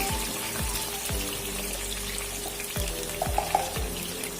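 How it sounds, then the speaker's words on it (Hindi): Chopped onions fry in a few spoonfuls of hot oil for a homemade curry, giving a soft, continuous sizzle broken by several light ticking stirs and a couple of brief spatters near the end. "ये देखो मैंने इसमें प्याज शामिल कर लिया है।"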